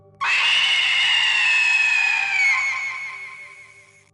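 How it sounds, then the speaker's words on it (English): A sudden, piercing scream from a woman or child bursts in sharply and holds for several seconds, loud and shrill, as a horror sound effect in a haunted house story, then slowly trails off. "a piercing scream shattered the silence from David's room"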